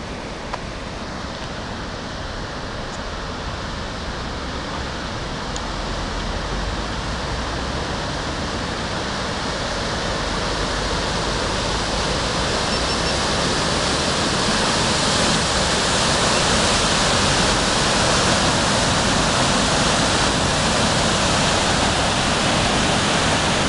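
A steady, loud rush of water runs on without a break as waves wash along a river, and the roar swells a little toward the end with no voices.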